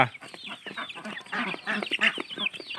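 Farm ducks call in a busy, overlapping flock, a stream of quacks and squawks rising and falling close by with no pause.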